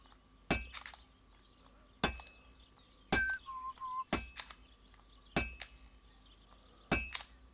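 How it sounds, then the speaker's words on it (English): Hammer blows ring out on hot metal at a blacksmith's anvil in Kingdom Come Deliverance 2, six sharp metallic clinks at a slow, steady pace of roughly one every one and a half seconds, fairly close and alone against quiet room tone. "I have to hammer it more evenly."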